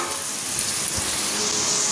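Bitter gourd frying in a pan, a steady loud sizzle and crackle of hot oil that stays continuous throughout.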